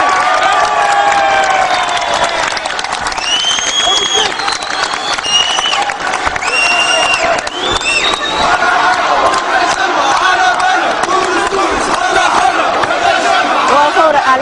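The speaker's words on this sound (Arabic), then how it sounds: "ضجت القاعة التي كانت تضم مئات الأشخاص بتصفيق حاد، بينما علت هتافات التجمع الدستوري الديمقراطي ارحل وتونس حرة" Hundreds of people packed into a courtroom burst into loud, sustained applause mixed with rhythmic chanted slogans, a dense roar of clapping and shouting voices filling the hall throughout.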